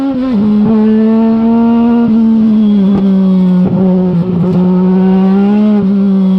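A small race car on track, its engine droning loud and close with a steady strong pitch that wavers as the throttle lifts and reapplies through an oversteer snap, with brief gear-change dips.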